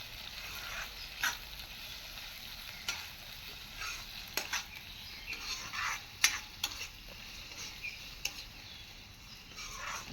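Onions frying in a pan make a steady, faint sizzle, with a utensil stirring and scraping now and then, giving scattered soft clicks and taps throughout.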